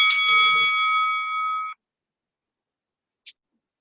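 A workout interval timer sounds a loud, steady electronic tone with a harsh buzz layered in for about a second and a half, then cuts out. After a silent pause, a single short beep follows.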